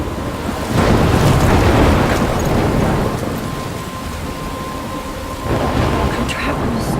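A thunderstorm in the Life is Strange video game: a loud, rolling rumble of thunder over steady rain and gusting wind, swelling again near the end.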